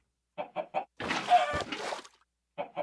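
A Minecraft chicken clucks in short, close bursts, three quick clucks, then a longer squawk, then two more clucks, with no talking.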